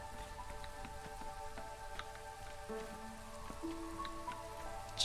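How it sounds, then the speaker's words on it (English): Steady ambient rain from the city-building video game Against the Storm patters softly on surfaces, a continuous, even hiss of drops with soft, mellow tonal music underneath. "Kind of the nice ambient noise of the rain"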